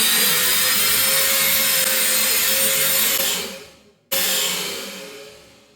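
A Flex cordless drill driving a screw into wood runs at a loud steady whine, slows and stops around the four-second mark, then restarts briefly and fades as the screw sinks home.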